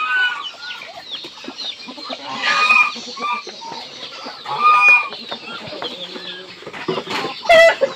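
Bangkok chickens clucking close by on a backyard farm as two roosters compete over a hen, irregular busy clucks and squawks with some wing flapping, no talking.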